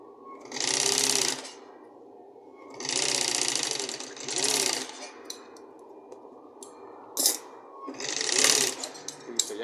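Sewing machine stitching the repaired side panel of an Audi A3 driver's seat, several bursts of fast mechanical stitching separated by pauses, with small clicks and handling noises in between, close and clear.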